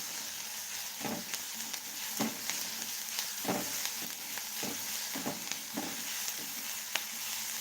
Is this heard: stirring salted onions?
yes